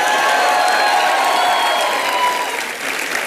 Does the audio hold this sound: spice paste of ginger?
no